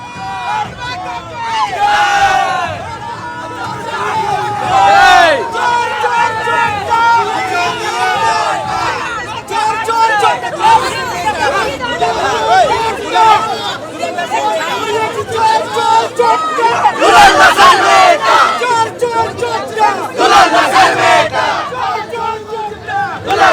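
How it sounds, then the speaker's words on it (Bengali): Party workers shouting political slogans and counter-slogans outside a police station: a loud, dense crowd of overlapping chanting and yelling voices, continuous and rising in intensity throughout. "রত্না চট্টোপাধ্যায়কে লক্ষ্য করে চোর স্লোগান দেন বিজেপি কর্মী সমর্থকরা, পাল্টা স্লোগান তোলেন তৃণমূল কর্মীরাও"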